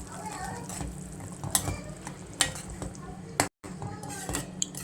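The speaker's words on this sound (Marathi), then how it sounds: "आता यामध्ये आपण हे अंड घालून घेऊया आणि हे मिक्स करूया" Egg being stirred into a boiling pot, with a spoon clinking and scraping against the metal pot in sharp, irregular taps over a low bubbling background.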